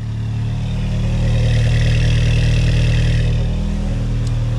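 A Mk2 Jetta engine runs loud and steady up close, a deep droning idle with a slight rise in revs, with no voices.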